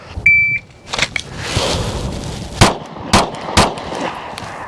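Pistol shooting drill with a red dot sight: a timer beep, then several sharp loud gunshots spaced about half a second apart outdoors.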